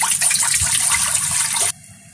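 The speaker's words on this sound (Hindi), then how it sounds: "सबसे पहले हम कुकर में पानी डाल लेंगे।" Water pours steadily from a tap into a pressure cooker in a home kitchen for about a second and a half, a bright loud splashing that stops abruptly and leaves quiet.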